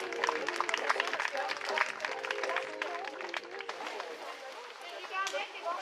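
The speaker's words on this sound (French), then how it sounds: "Un tonnerre, un triomphe d'applaudissements pour ces voltigeuses du samedi" An audience applauds the female vaulters at a club festival, dense clapping from a crowd that carries on throughout while an announcer talks over it.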